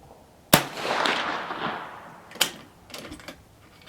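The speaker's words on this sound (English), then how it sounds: "I figured I'd shoot up the ammo, go on to something else." Two sharp, loud rifle shots about two seconds apart ring out outdoors, each followed by a fading echo, then a few lighter metallic clicks of the action being worked.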